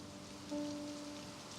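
Rain falling steadily outdoors, a faint, even hiss of drops with a brief low tonal hum partway through, with no talking.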